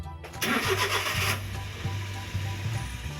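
A Suzuki DA64V van engine cranks briefly with a loud whirring burst, then catches and settles into a steady, low idle with a rhythmic pulsing hum.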